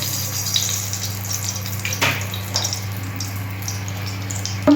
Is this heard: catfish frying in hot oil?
yes